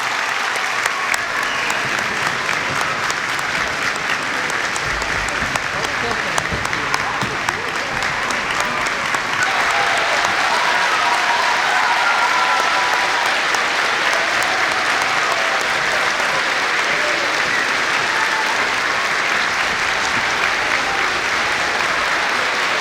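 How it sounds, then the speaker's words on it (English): A school gym crowd at a Veterans Day ceremony gives a long, loud round of applause for veterans past and present, dense continuous clapping that swells slightly midway and carries on without letting up. "let's have a nice big round of applause for all veterans, past and present."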